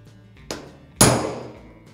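A big hammer strikes a part on a modified Holden car build, with a lighter tap first and then one loud metallic blow that rings and fades, close to the microphone with no talk.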